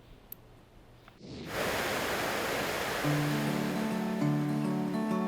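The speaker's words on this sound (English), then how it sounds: "we are going on a winter adventure to go check out Connecticut's most beautiful waterfalls" Steady broadband rush of a winter waterfall at Wadsworth Falls, Connecticut, rising after a quiet opening second, with faint tonal hums layered over the constant roar.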